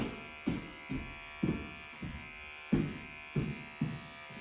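Electric hair clippers buzz in short repeated passes while trimming a child's hairline at the nape, each stroke a brief close louder burst over a constant hum, about eight passes in quick rhythm.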